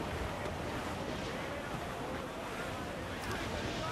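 A sailing ship moves across open sea in the pirate video game Assassin's Creed IV: Black Flag, with a steady, unbroken roar of waves and wind washing past at even loudness throughout.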